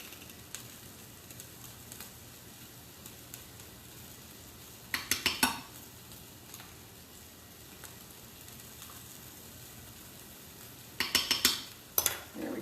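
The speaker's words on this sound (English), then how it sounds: "Stir that around." A spoon scrapes and clinks against a pan while curry is stirred, in two short clusters of quick metallic scraping over a quiet background sizzle.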